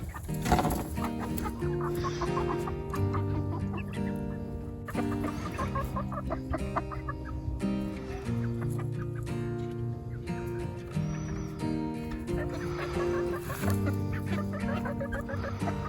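Rhode Island Red chickens clucking steadily on a homestead, the calls mixed with a dense layer of other farm sounds throughout, close and moderately loud with no talking.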